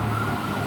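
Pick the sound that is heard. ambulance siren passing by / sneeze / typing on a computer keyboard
ambulance siren passing by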